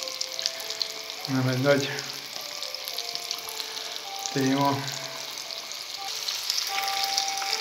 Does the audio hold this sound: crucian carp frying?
yes